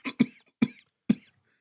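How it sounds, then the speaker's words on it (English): Three to four sharp, close coughs in quick succession, each a brief harsh burst followed by silence. "Oh no, the cough."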